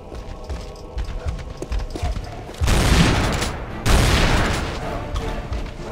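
A shotgun fires twice in Tomb Raider Anniversary, two loud broadband blasts a little over a second apart, each followed by a fading roar, over steady game ambience.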